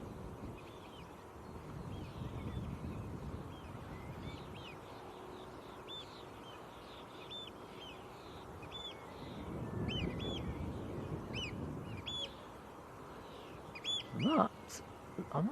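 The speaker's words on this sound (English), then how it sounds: "That's an oyster catcher that's just flying past us. That was two of them. Squawking away." Two oystercatchers pass by calling in a string of sharp, repeated piping squawks, moderately distant over steady outdoor rumble and wind near an airport.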